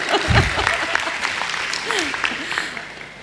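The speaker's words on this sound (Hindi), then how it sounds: "आप ताली बजाओ।" An audience at a Hindi spiritual talk claps in a short, scattered burst that fades quickly while a voice speaks over it.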